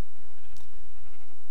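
A sheep in Minecraft gives a short bleat, close and fairly loud, followed by a few faint clicks and quiet game sounds, with no voices.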